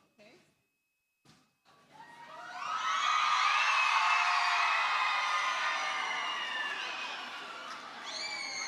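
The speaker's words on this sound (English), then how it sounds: "if you want to stand up and scream really loud, that would be great" An audience at a girl child summit rises and screams loudly in a sustained, high-pitched crowd roar that swells and holds for several seconds after a brief quiet start, with some cheering and whoops.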